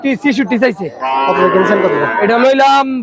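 A ten-month-old Sahiwal calf at a Bangladeshi cattle market gives a long, loud, close moo, just after a voice and with other talk faint around it.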